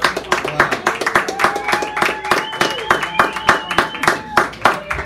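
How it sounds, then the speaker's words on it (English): An audience claps in a small San Francisco cafe during a poetry hour, with steady, fairly close clapping running through the whole stretch while voices and a few sustained tones carry on over it. "give a round of applause."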